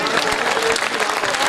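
Listeners at a Hindi kavi sammelan poetry recital in Rudrapur give loud, sustained applause, a thick wash of clapping from a large crowd.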